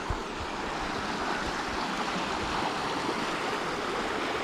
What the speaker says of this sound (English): you are right here at this gorgeous little creek